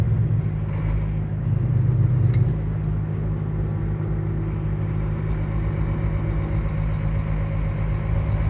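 Road vehicle engine rumbling steadily from inside a car on a road near Bielefeld, with a brief swell early on as another car from behind speeds past, otherwise a constant low drone.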